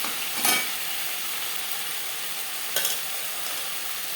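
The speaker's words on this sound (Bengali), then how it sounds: "পুঁইশাকের ডাঁটা ও কুমড়োর সাথে বেশ ভালো করে মিক্স করে দেবো। কাঁচা গন্ধ যাওয়া পর্যন্ত নাড়াচাড়া করে দেবো।" Malabar spinach stalks and pumpkin stirred in a pan, a steady soft sizzle broken by two brief scraping strokes of a spatula, near and quiet, with no voices.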